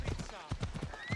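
Horse hooves in the video game Assassin's Creed Odyssey clop in a steady, close rhythm of evenly spaced beats, with a voice talking over them.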